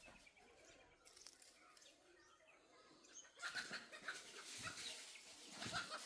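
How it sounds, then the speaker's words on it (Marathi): Village chickens in the Konkan countryside raise an evening commotion as a rooster chases a hen. Quiet clucks and coos give way to a burst of loud squawking and wing flapping in the second half. "कोंबड्याचा दंगा चालू आहे फुल."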